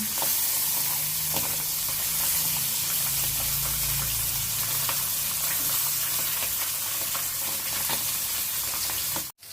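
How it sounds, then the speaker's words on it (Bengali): Pabda fish frying in oil in a kadai and being flipped over, producing a dense, even sizzle and hiss with a few soft utensil taps, close and steady throughout, with no one talking. "মাছগুলো এক পাশ ভাজা হয়ে গেছে আর এক পাশটা এভাবে উল্টিয়ে"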